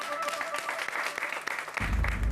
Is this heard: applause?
yes